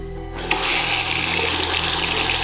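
Shower water in a run-down Eastern European hotel room starts about half a second in and then pours steadily as a loud, close, even hiss, over a low room hum.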